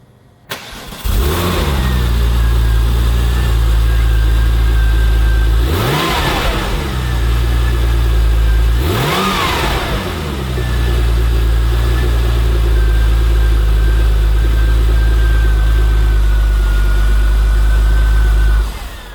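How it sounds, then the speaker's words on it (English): Air-cooled Porsche 911 Turbo S engine cranks over and catches, then settles into a steady, close idle with a couple of brief throttle blips rising and falling partway through. "air-cooled cars kind of sound like a sewing machine"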